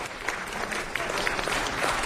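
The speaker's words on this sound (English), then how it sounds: "Let's give Mendana a round of applause for being a new mom." Applause from the audience at a city council meeting, a steady wash of clapping of moderate loudness heard from some distance in a large chamber.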